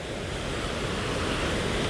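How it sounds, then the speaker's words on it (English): A creek running high with spring meltwater rushes steadily outdoors, a dense continuous wash of flowing water, loud and close, with some wind noise mixed in and no talking. "we're at the creek"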